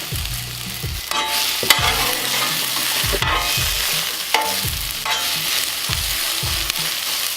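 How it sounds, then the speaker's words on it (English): Cut peppers sizzle in a little oil on a Blackstone griddle, a steady loud frying hiss broken by repeated scraping stirs of a spatula. "let's start by laying down a little bit of the peppers"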